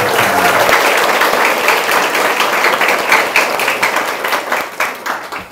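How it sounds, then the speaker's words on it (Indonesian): Evening gathering audience applauding steadily and loudly, a dense wash of clapping that holds throughout and eases slightly at the close. "boleh beri tepuk tangan terlebih dahulu"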